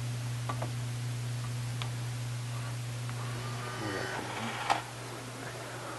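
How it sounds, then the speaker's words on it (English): A Vendo Vue vending machine initializing as its arm travels to the top, heard as a steady electrical hum with faint ticks, then a brief whirring motor sweep ending in one sharp clunk. "the Vendo Vue will do what we call initializing. The arm will actually go to the top of the machine."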